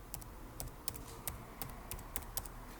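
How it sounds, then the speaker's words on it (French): Typing on a computer keyboard, close and quiet, with irregular clusters of crisp key clicks and taps following one another steadily without any talking. "Sans le toucher, on tape simplement sauvegarde"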